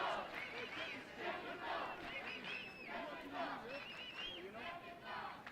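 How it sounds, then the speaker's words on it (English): A stadium crowd at a rugby sevens match between Mexico and Jamaica roars and shouts continuously, with whistles and cheers rising in waves, a dense, steady wash of voices across the whole stretch. "And now the crowd starts to get involved."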